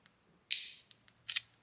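Two short, sharp mechanical clicks of an Asus Zenfone 10 side button sound close up, each a crisp snap with a faint tick or two between them in near silence.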